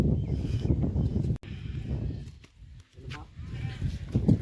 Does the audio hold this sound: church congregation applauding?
no